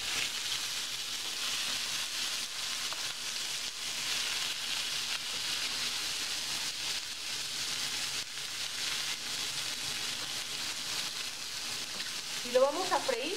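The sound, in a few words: tomato, onion, garlic and chiles frying in oil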